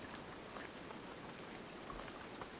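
Rain falls in the survival video game Dinosystem as a soft, steady patter of drops, faint and even throughout, with a few slightly brighter taps and no voices.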